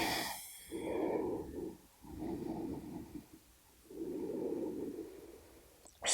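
Slow, audible breathing during a standing yoga balance, half lotus tree pose, with long drawn inhales and exhales separated by quiet gaps, close and soft.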